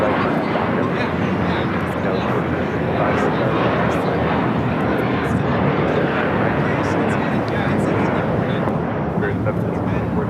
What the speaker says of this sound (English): Next takeoff is a flight heading to JFK. JetBlue Flight 424. It's an A321.